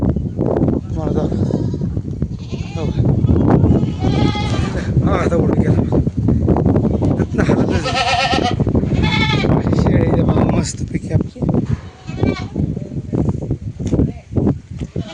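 Goats bleat repeatedly and loudly nearby, several overlapping wavering calls, amid rustling and shuffling in a shed at feeding time.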